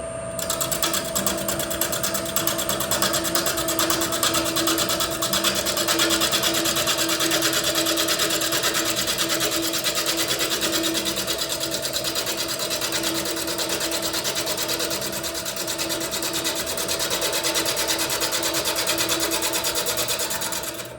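A wood lathe whirs steadily with a continuous high scraping as a tool cuts a spinning spalted maple box, loud and unbroken throughout.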